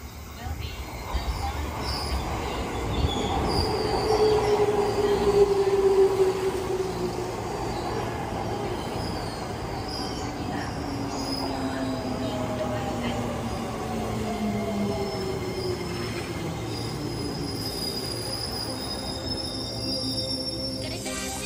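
A Musashino Line 205 series electric train runs past nearby, a loud rumble with squealing wheels and a rising motor whine that fades into a steady roll.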